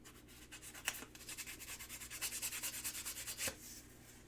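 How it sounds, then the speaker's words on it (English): Sandpaper rubbed by hand along sharp metal edges, a quiet rhythmic scratching of repeated short strokes that builds slightly in the middle, heard close and alone. "I run all sandpaper on all my metal edges"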